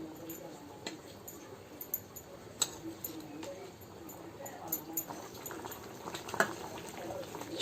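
Koramenu fish curry (chepala pulusu) simmering in a pot, a faint low bubbling with soft irregular pops and ticks over a quiet background.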